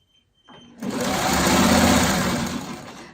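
A sewing machine stitches fabric in a short, close burst: the motor whirs up quickly, holds a steady rapid stitching hum for about two seconds, then slows as it winds down.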